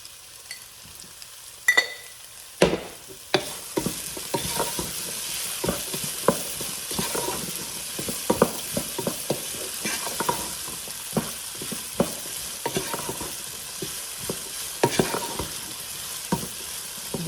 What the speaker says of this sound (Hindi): अब इसे सौटे कर लेंगे अच्छे से।